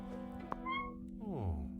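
A cat meows once, a short clear call midway, followed by a falling tonal sweep at the end, quiet against a steady background hum.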